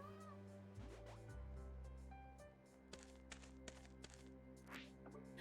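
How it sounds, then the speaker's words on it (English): A video-game cat meows as it is petted. A couple of short, faint meows sit over steady, quiet in-game music and ambience. "I'm gonna pet the cat."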